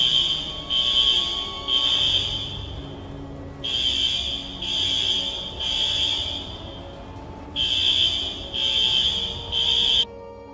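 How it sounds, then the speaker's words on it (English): A building fire alarm sounds in repeated bursts of shrill, high electronic beeping, three pulses to a group, separated by brief pauses. It is loud and close and goes on for about ten seconds with no talk. "The fire alarm in the building is going off."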